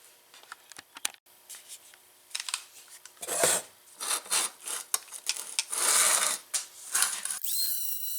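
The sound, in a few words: sanding rust off metal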